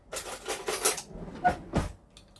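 Metal cutlery clinks and rattles in a home kitchen as a spoon is pulled from a drawer while making jam-filled Empire biscuits; a few quiet, sharp clatters come in short bursts.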